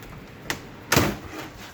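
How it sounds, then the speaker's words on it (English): A wooden drawer is tugged out of a homemade chicken brooder where it had been stuck, giving a short scrape followed by a louder knock and slide about half a second later. "So let me grab this drawer out real quick."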